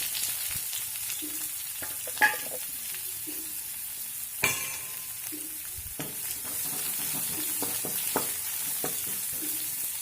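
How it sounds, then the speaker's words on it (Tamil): Chopped onion fries with cumin seeds and a dried red chilli in a pan, a steady close sizzle with occasional stirring clinks and scrapes, no voices. "வெங்காயம் வந்து நல்லா வதங்கி வரட்டும்."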